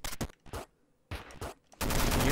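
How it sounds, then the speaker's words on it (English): Machine-gun fire in the video game Downwell, short loud bursts of rapid shots with brief gaps, ending in a sustained burst, no talking over it. "Machine gun."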